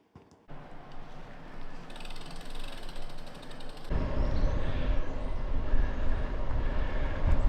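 A bicycle being wheeled out for a bikepacking trip, its freewheel ratchet clicking in a fast steady buzz, followed by louder rumbling handling noise.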